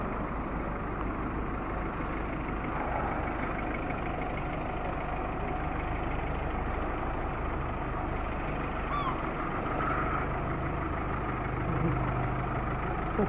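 Taxis idling on a Blackpool street in winter, a steady low diesel engine rumble that carries throughout with faint traffic and distant voices mixed in.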